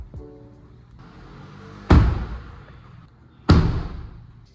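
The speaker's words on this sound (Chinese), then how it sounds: "那同时也让关门的手感变得更扎实大家可以听听看" A car door shuts twice with a solid, muffled thud, each slam followed by a short fading rumble in an otherwise quiet space.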